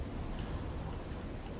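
Rain falls steadily in a dark city in Oblivion, a dense and even hiss of drops that fills the whole clip. It sounds close and constant, with no one talking.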